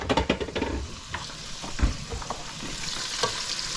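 Chicken deep fries in oil with a close, steady sizzle, punctuated at the start by a few quick clattering knocks and scattered pops.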